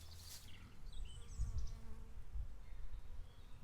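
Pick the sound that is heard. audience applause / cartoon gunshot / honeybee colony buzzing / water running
honeybee colony buzzing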